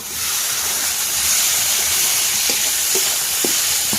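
Chopped tomatoes frying in hot oil with onion-garlic paste, a bay leaf in the pan: a loud, steady sizzle with occasional soft stirring taps, close up.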